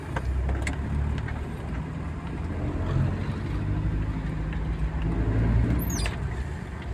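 A Nissan D21 Terrano, freshly converted to electronic ignition, drives on a test run with a steady engine and road rumble carrying throughout, a couple of brief higher squeaks near the end.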